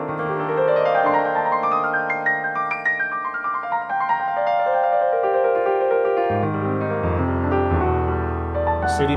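Nord Stage 3 electric piano on a Lady D sound, chords and melody played solo, warm and sustained, with a flowing run and a shift to lower bass notes near the end.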